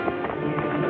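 Horses' hooves clip-clop in a quick, continuous patter, loud and close, with no voices over them.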